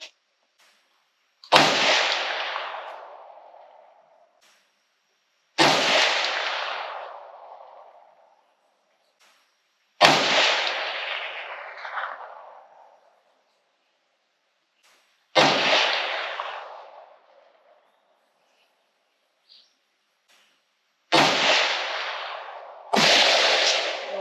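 Five loud, close rifle shots from a .300 Ham'r firing Hornady 110gr V-Max bullets over a 26.9-grain load of CFE Black powder. Each sharp crack rolls off in a decaying echo, spaced about four to five seconds apart with quiet between.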